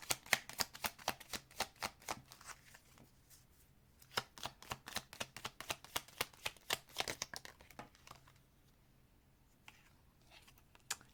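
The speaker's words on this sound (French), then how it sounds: "On va mettre une troisième carte sur l'énergie tierce." Tarot cards shuffled and laid out in a reading, a steady run of crisp close flicks and riffles with brief pauses, then further bursts of card handling, with no voices.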